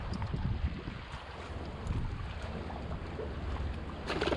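Strong wind buffets the microphone on a boat out fishing with light tackle on a cold winter day, a steady loud roar and rumble with gusts building near the end, with no talking.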